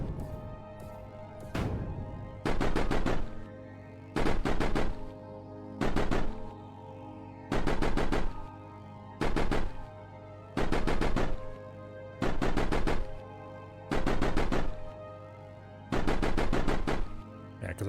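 Turret in a strategy video game firing in regular bursts at a single baiting unit, about nine loud clustered volleys of rapid shots spaced roughly two seconds apart over a steady low background hum.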